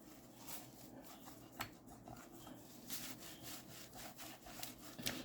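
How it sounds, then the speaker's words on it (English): Excess paint is wiped off a steampunk cover with a cloth, making soft continuous rubbing and scraping strokes, close and quiet, with small occasional taps. "I'm going to wipe up this excess paint and stuff and get it off here"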